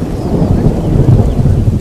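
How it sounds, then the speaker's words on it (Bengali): Thunder rumbles low and steady through heavy rain on a dark night, a continuous loud roll with rain pattering throughout and no voices. "সাথে সাথে মাঝে মধ্যে বজ্রপাত হচ্ছে।"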